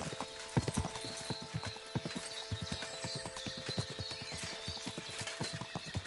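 Horse hooves clip-clop steadily at close range in Kingdom Come Deliverance 2, with a brief whinny in the middle; the hooves form a continuous, regular rhythm that carries through to the end.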